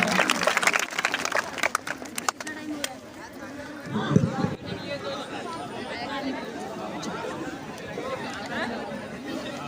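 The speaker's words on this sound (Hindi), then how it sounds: "आदरणीय मुख्य अतिथि का प्राचार्य सर द्वारा सम्मान करते हुए जोरदार तालियों से स्वागत है" Loud applause and crowd chatter from an audience welcoming the chief guest at a college Independence Day function, with people talking throughout.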